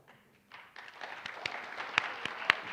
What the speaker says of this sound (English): please restrain your clapping until I read all 4 names